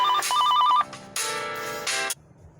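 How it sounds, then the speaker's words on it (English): A phone ringtone sounds for an incoming call, a clear electronic melody repeating in short bursts with brief gaps, loud and close, with no talking over it. "now I'm getting these phone calls at the time that I'm trying to do this video"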